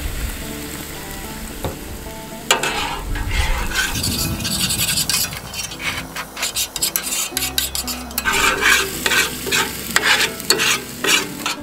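Sauce sizzling and reducing in a pan while camping in a horse paddock, a steady frying hiss broken by stirring scrapes and clinks of utensil against metal, close and fairly loud with no talk.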